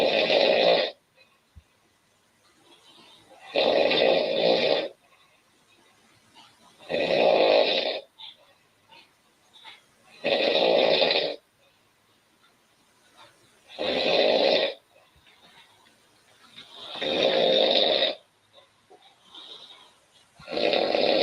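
A woman snores in a slow, regular rhythm, six loud rasping breaths spaced a few seconds apart, with near silence between each one.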